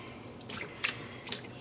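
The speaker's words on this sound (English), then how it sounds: "I'm gonna refill this basin with water." Water runs into a basin being refilled while wool roving is dyed with acid dyes: quiet background hiss broken by three short splashy bursts of dripping and pouring, close by and without speech.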